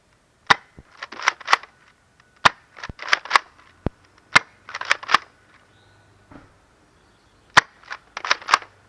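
A Zuru Max Attack toy sniper rifle blaster fires in sharp, loud snaps, each followed by quick clicking clusters of the mechanism being reprimed, repeated several times with pauses in a quiet room.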